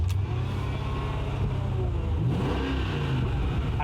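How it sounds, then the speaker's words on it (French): The V8 of a Mercedes CLK DTM race car rumbles loudly and revs up and down in deep, uneven surges, heard close and alone. "il est temps d'entendre ce fameux V8"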